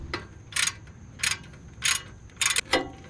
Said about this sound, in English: So I'm gonna gradually make these tight bolts, and then I'm gonna make the ones in the back.